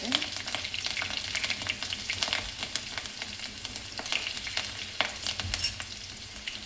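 Green chillies and curry leaves fry in oil for a dry potato curry, with a close, continuous sizzling crackle and intermittent stirring scrapes.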